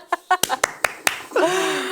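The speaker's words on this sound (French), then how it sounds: "On peut battre des mains aussi." Six sharp hand claps, spaced and fairly close, given as praise during a French talk on worship, followed by a voice starting to speak.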